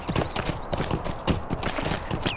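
Horse hooves clip-clop at a steady trot while riding cross-country in the Lord of the Rings Online game, a close, continuous run of rhythmic beats with a faint high whinny-like tone near the end.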